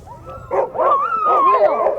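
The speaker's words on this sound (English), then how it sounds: "The dogs, mostly Alaskan Huskies, are specially bred, raised, and conditioned to run long distances." Alaskan Husky sled dogs at a long-distance race give excited, high yips and barks close by, overlapping in a continuous noisy burst.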